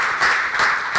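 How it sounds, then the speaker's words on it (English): Audience applause at a startup competition conference, a dense steady clapping from a crowd that swells slightly in waves, with no voices over it. "An applause for Robert and Tino, please."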